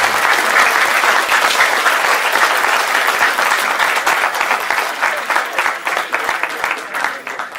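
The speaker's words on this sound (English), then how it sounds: "can we have a great round of applause for Mr." An audience at a JNU discussion session gives J. Sai Deepak a loud, full round of applause, thick continuous clapping close by that gradually thins toward the end.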